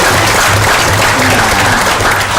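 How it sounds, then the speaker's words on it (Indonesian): Loud, close audience applause at a community family gathering, a continuous dense patter of clapping filling the whole moment with a faint murmur beneath. "Wah, lah tepuk tangan, sekolah gratis ini ya."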